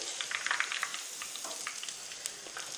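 Omam podi dough deep-frying in hot oil as a Diwali snack, a steady close crackling sizzle with scattered bright pops throughout, no voices.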